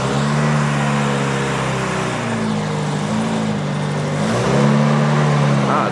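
An engine running steadily after a carburetor rebuild during a short backyard test drive, a loud close drone with revs dipping and rising again.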